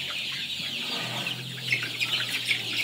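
Sonali hybrid chickens cluck softly in a crowded poultry farm, a faint scattering of short calls over a low steady hum.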